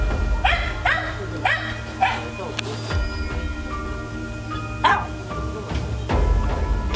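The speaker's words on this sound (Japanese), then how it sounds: "一緒に園内を散歩できる犬だ。" Dog at a small zoo in Japan, one that walks the grounds with visitors, gives several short barks and yips spread through the clip, close by, with a person speaking over much of it.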